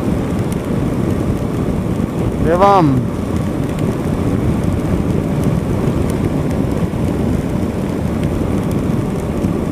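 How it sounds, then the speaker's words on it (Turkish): Steady broadband wash of rain and wind rushing past on a motorcycle ride along a straight open road, constant and loud throughout, with a brief falling whistle-like tone near the start and a short spoken word. "Yağmur işte ne olacak yani"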